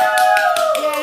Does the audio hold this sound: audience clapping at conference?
yes